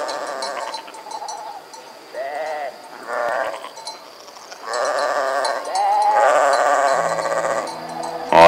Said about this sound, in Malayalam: കൂട്ടത്തോടെയുള്ള ആടുകളുടെ കരച്ചിൽ